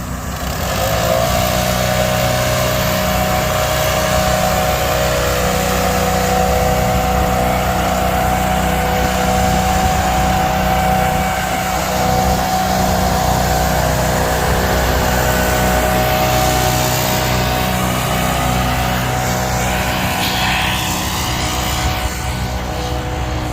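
Stand-on lawn mower engine running steadily at high throttle while blowing off grass, a loud continuous droning roar close by that holds nearly unchanged throughout.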